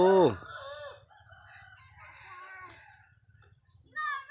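A chicken crows loudly up close with a long rising call, then softer clucking and scattered fowl sounds follow, another strong crow starting at the end.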